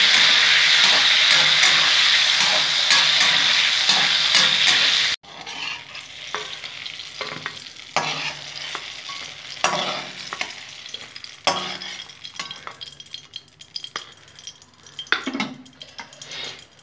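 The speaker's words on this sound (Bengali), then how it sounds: "বেগুনটা একটু লাল লাল করে আমি ভেজে নেব।" Eggplant pieces fry in hot oil in a pan, a loud continuous sizzle at first, then softer crackling broken by repeated scraping stirs of a utensil.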